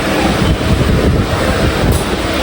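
Steady loud rumble of a moving train in Palakkad, Kerala, with continuous low-pitched rolling noise and wind buffeting, no voices.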